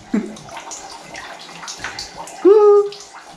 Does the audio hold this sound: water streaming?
yes